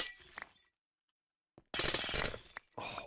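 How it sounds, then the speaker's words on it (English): Ice blocks smashing in Minecraft, with a short burst of breaking clinks, a long gap of silence, then a loud dense run of shattering and another burst at the end, close and without talk. "Oh, all the smashing noises."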